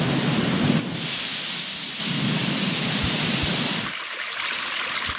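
Steady rain ambience from the iPad background sounds feature, a dense hiss of falling rain with a low rumble, playing continuously and then shifting to a thinner, brighter wash near the end.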